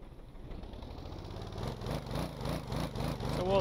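Boat engine in a video game revving, a steady mid-pitched drone that surges and rises in repeated waves, growing louder toward the end.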